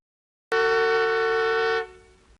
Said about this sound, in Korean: 경적을 울리는 소리가 크게 들려온다.